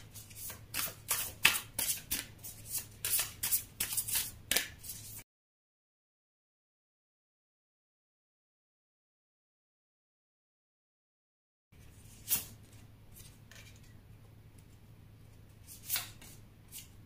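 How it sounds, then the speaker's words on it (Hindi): Tarot cards shuffled by hand in a quick run of crisp, riffling bursts, followed by a long silence and then a few quieter card flicks and taps, with no talking. "चलिए कार्ड निकाल लेते हैं आपके।"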